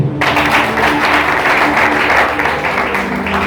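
A church congregation applauds Jesus during a sermon, with dense, sustained clapping and crowd noise, loud and close, starting abruptly and continuing throughout.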